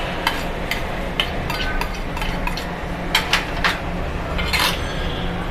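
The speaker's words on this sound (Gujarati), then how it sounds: "હવે બરાબર મિક્સિંગ કરી લેશું" Chopped tomatoes and chillies are stirred into a pot of Swaminarayan kadhi, with a spoon clinking and scraping against the metal in irregular, close, fairly loud knocks and no voices.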